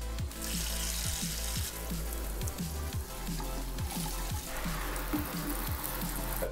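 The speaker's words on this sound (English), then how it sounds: "I'm just going to wash up the rest of the potatoes." Water runs from a tap while potatoes are rubbed and rinsed underneath it, with a steady splashing hiss and repeated low thumps.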